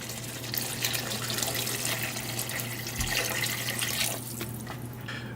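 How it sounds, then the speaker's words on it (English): Water pours steadily into a pot of braised beef short ribs, a loud continuous splashing stream that tapers off near the end. "We're gonna add some water."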